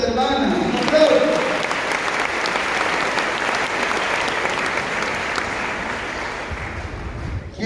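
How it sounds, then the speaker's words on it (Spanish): A congregation in a church applauds a sister in the faith, sustained loud, dense clapping that builds quickly and holds steady, with a spoken voice briefly at the start. "Un aplauso de esta hermana. Un aplauso."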